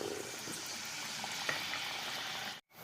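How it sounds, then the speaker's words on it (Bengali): Pitha cakes frying in hot oil for Makar Sankranti, a steady dense sizzle and bubbling that runs continuously at moderate level, cutting out briefly near the end before resuming. "বাদ বাকি পিঠেগুলো এখন আবার ভেজে নেব একে একে একে একে ভেজে ফেলব"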